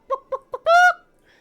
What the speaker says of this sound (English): Except that's a chicken sound.